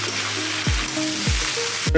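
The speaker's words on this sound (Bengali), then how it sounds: "এগুলো এখন আমি ভালো করে ভেজে নেব মশলাটাও ভাজা হবে আর এগুলোও ভাজা হবে" Steady sizzling of spices and vegetables frying in a pan, loud and close, with a few low knocks of a spoon or spatula against the pan.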